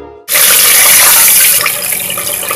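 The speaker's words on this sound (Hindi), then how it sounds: "पानी मैंने थोड़ा मैं इसमें डाल दूंगी" Water gushes loudly into a cooking pot of plain cumin (jeera) rice, a sudden close pour that starts abruptly and then continues as a steady splashing stream.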